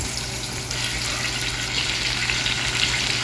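Vegetables frying and being mixed in a pan, a close steady hiss and sizzle with a constant low hum underneath and a slight rise as they are stirred.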